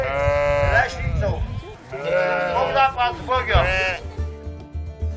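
A flock of sheep in the Polish Beskid and Kraków-Częstochowa Jura highlands bleats loudly and repeatedly at close range as it moves toward the fold, with many overlapping calls and a busy background of farm noise.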